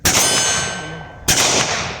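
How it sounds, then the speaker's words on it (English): A Fiocchi cartridge drops out of a Ruger LCP Max pistol onto the ground, giving two sharp metallic clangs about a second apart, each ringing briefly before fading, close by with no talk. "And it fell out again. There it is on the ground."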